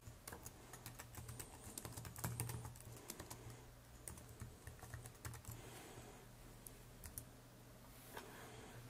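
Rapid typing on a computer keyboard while text is entered into a design program: dense, irregular clicking keystrokes for the whole stretch over a steady low hum.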